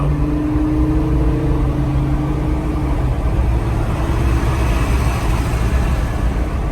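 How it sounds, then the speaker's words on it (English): A Jeep fitted with a Banks intake climbs a hill with the windows down, a loud steady engine drone and intake roar heard from inside the cabin, holding even throughout. "you all can hear how loud this intake is whenever we start up this hill"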